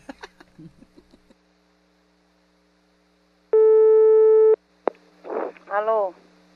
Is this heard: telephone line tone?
yes